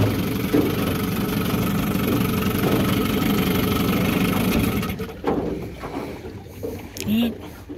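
A 1974 Johnson 15 hp outboard motor idles on a pond test, giving a steady low mechanical putter that fades and turns uneven in the last few seconds, with a voice heard briefly near the end.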